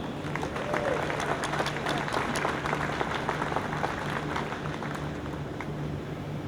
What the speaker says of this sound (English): You get the free pizza for the loudest applause.